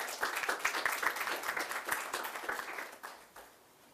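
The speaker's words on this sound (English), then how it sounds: "Please let us have a nice round of applause for Suzanne" Audience at a meditation museum grand opening gives a brief round of applause for a guest speaker, a quiet, scattered patter of clapping from a modest crowd that fades out after a few seconds.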